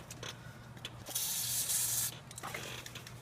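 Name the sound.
spraying WD-40 from a nearly empty can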